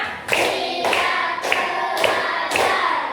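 A classroom of children performs a hand-clap routine, with about five crisp, evenly spaced group claps ringing out close and loud, with almost no talk.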